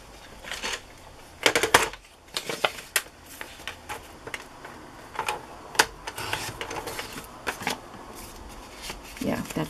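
Vellum paper is trimmed for a tag, giving a run of short, crisp snips and rustles in irregular bursts, heard close up with quiet handling noise between them.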